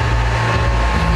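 A Fendt tractor's heavy diesel engine runs at a steady low rumble, loud and continuous, near a racing circuit.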